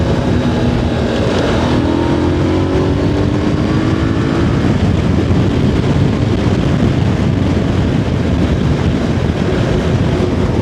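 A Voge DS625X motorcycle pulling hard in second gear, its engine note rising steadily under heavy wind rush for the whole clip, close and loud with no talking.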